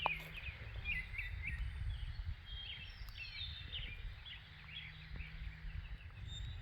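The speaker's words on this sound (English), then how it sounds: "I kind of wanted you to hear some of this bird song that's just going crazy in my backyard right now." Birds sing in a backyard garden, with scattered high chirps and short trills repeating throughout. The calls are fairly faint over a low outdoor rumble, and no one speaks.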